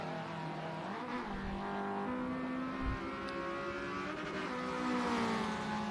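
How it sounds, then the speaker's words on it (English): An endurance race car in the FAST 4s series, heard from a bonnet camera, drives steadily. Its engine tone rises and falls as it shifts and slows for a turn, with a brief low thump partway through. "Down the straight, down the hill, hard on the brakes coming into this turn."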